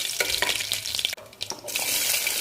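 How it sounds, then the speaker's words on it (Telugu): Tempering seeds, three red chillies and curry leaves frying in a little oil for a broad beans curry, with a crackling sizzle broken by a few stirring scrapes and a brief lull before the sizzle surges again. "తాలింపు గింజలు 1/2 టీ స్పూన్, 3 రెడ్ మిర్చి, కరివేపాకు కొంచెం వేగనిచ్చి"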